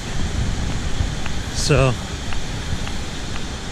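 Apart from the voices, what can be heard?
waterfall rumbling after rain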